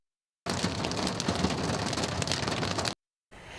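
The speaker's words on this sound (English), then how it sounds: "large damaging hail, some the size of ping pong balls" A dense, steady roar of large hail, some the size of ping pong balls, pounding down in a thunderstorm, loud and continuous for a few seconds before cutting off abruptly.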